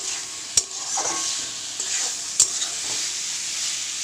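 Tomato and spices stir-fried in a pan for a Bengali home dish, a steady close sizzle broken by a couple of sharp scrapes of the stirring utensil.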